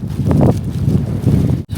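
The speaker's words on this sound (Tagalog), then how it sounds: "Tapos malakas pa yung hangin." Strong, cold night wind buffets the microphone outdoors, a loud continuous rumbling roar with gusty surges and a sharp brief dropout near the end.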